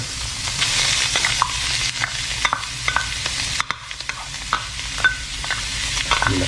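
Minced pork stir-fried with vegetables in a hot pan, continuous loud sizzling broken by repeated scraping clacks of a spatula and a brief dip near the middle, no talking.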